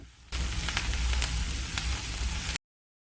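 Chopped spinach sizzles and hisses steadily in a hot pan up close, with a few soft stirring scrapes, before the sound cuts off abruptly.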